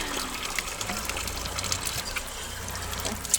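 Spring water pouring and gushing at a temple spring in Dali, China, as it is collected, a steady close splashing flow lasting throughout.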